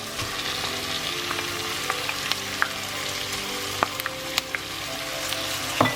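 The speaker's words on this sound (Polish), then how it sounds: "Całość oczywiście dobrze mieszam i jeszcze chwileczkę podsmażę" Kashubian-style herring salad with tomato concentrate fries and is stirred in a pan, giving a continuous close sizzle with scattered light scrapes and clicks of the utensil and no talking.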